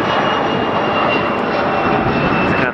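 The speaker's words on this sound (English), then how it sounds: "Get a quick arrival out here, going west. It is a JetBlue Airlines Airbus A320." A JetBlue Airbus A320 arriving overhead gives a steady, loud, broadband engine roar with a faint high whine, holding constant throughout without any voices.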